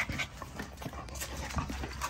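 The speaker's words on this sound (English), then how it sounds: "Like, this is a puppy, y'all." An XL pitbull puppy pants in quick, rhythmic breaths close by, with a few soft shuffling sounds and no talk.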